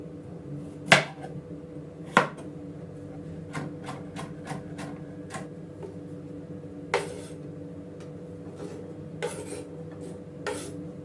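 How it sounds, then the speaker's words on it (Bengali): A knife cuts a carrot on a board in a home kitchen while vegetables are prepped for khichuri. Sparse, close, irregular knife taps and clicks, a couple of them sharper, sit over a low steady background hum. "প্রথমে গাজরটা কেটে নিচ্ছি।"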